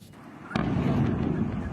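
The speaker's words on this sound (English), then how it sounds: "Explosions can be heard in this amateur footage" A sudden deep boom from a drone attack on Saudi oil facilities bursts in after a quiet moment and rolls on as a heavy rumbling roar, heard from a distance.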